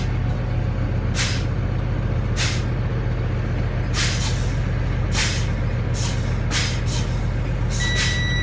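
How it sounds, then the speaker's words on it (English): A truck's air brakes are pumped in the cab, giving short sharp bursts of released air at irregular intervals over a constant low idling rumble. "You just keep upping on the brake slowly until you see the light come on."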